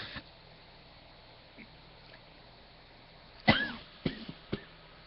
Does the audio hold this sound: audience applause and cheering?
no